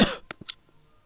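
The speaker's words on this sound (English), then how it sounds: "use trimming to remove this cough from the recording" A single cough in a recording: a short burst followed by a couple of brief throaty bursts, close and fairly quiet, then near silence.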